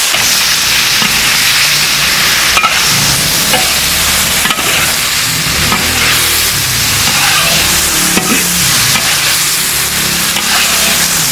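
Beef sizzles loudly in a large wok over high heat while a spatula scrapes and tosses it steadily, dense and continuous, with occasional clanks against the metal.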